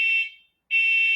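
A loud, steady high-pitched electronic alarm beeps in two long bursts separated by a short gap, clear and close with no voices over it.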